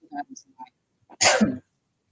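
A single sharp cough, brought on by spicy food, bursts out loudly after a few faint, soft vocal sounds, then quiet follows.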